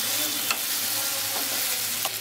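Grated coconut fries in a pan for tahini-style sesame chicken, a continuous soft sizzle with a few light stirring scrapes close by and no one speaking.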